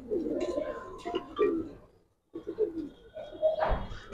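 Silver Mushaldom pigeons at a seller's stall coo in soft, low rounded calls, one clearer coo standing out near the end, with people talking close by throughout.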